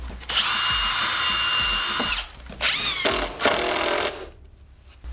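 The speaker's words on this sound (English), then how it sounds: "I'm going to pre-drill all the holes so there's very little chance of cracking" A power drill whines steadily for about two seconds while pre-drilling screw holes in wood, then spins up again in two shorter bursts, close and loud, before stopping.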